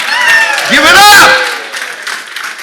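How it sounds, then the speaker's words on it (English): Audience applause and clapping for a performer at a live talk, a brief swell of crowd noise under a loud voice. "Let's have a nice round of applause for Sivan."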